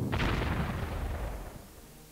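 Gunfire in the World War II strategy game Panzer Corps, a single deep booming shot that rolls off and fades over two seconds.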